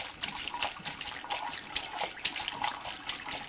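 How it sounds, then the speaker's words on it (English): Homemade kit wine pours from one vessel into another in a steady, soft splashing trickle, quiet and continuous without talk. "pour from this one to the other one."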